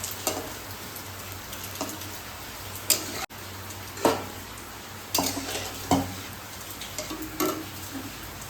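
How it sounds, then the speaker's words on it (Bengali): Palm fruit fritters (taler bora) frying in a pan, a steady soft sizzle with several sharp clinks and scrapes of a utensil against the pan, no talking. "একটু লাল লাল করে ভাজতে হবে"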